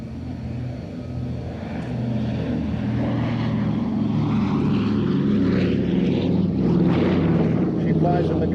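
A Battle of Britain Memorial Flight propeller aircraft drones overhead, its engine hum steady and building slightly louder as it passes, with a faint background voice.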